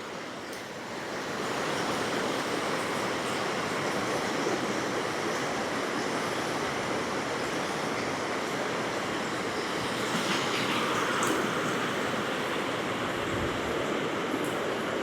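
Otter Tail River water flowing steadily in early March, a dense continuous rushing wash that holds nearly constant and close for the whole stretch, with no voices.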